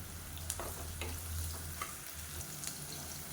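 Sliced onions for a kurma side dish sizzle steadily in a hot pan, a continuous close frying hiss with a few soft stirring scrapes and clicks, no voices.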